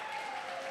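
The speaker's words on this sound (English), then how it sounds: "Everybody, round of applause for Michelle Bryant." Audience applause at a game development meeting, a steady wash of clapping from a room of people that stays even and fairly loud for the whole short stretch, with no voices over it.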